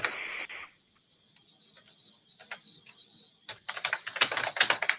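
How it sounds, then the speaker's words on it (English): Keys clatter on a computer keyboard in short, quiet bursts of clicking, close up, with a pause in the middle and a faster, louder run of typing at the end. "I will go ahead and start typing Style Master."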